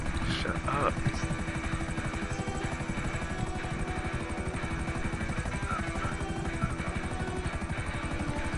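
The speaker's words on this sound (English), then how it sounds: "Flying a helicopter is way better doing a delivery" A helicopter in flight gives a steady, fast rotor chop that runs loud and unbroken from start to finish, with voices talking over it.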